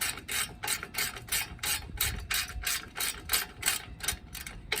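Ratchet wrench clicking in quick, steady bursts while turning the long screws on a Brembo brake caliper during a brake change on a Buick Regal GS, close and clear with no talking.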